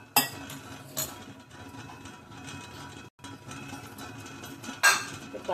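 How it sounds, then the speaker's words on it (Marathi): A kadhai (wok) set down on a gas stove: a few sharp metallic clanks and clinks, one near the start, another about a second in and a louder one near the end, with quiet kitchen background between. "मी गॅसवर कढई ठेवते."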